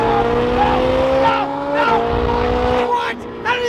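A Honda car engine revs hard, its tone climbing and dropping sharply with each shift, loud and close, with a voice faintly over it.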